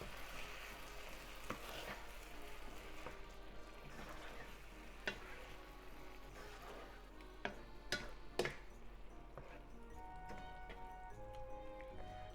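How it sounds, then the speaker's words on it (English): Chicken and leek stir fry being stirred in a pan with the heat off, giving a soft continuous clatter and scrape with a few sharper utensil clicks against the pan. "Give it a stir."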